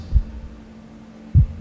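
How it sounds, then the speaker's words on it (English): Two deep, muffled heartbeat thumps land about a second apart over a low steady hum, soft and close with no talk. "That is your heartbeat."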